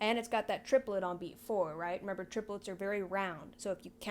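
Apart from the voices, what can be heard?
No everyday noises stand out.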